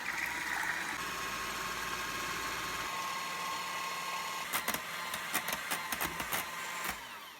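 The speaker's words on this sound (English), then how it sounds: "we'll just take our mixer and we'll mix that until we have whipped cream" Electric hand mixer whipping cream with sugar, a steady close whirring drone that shifts in tone, then gives way to faint clicks and taps toward the end.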